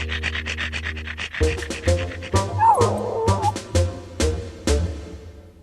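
A cartoon dog barks in a quick run of sharp yips and woofs, close and loud, with whimpering and panting sounds between the barks.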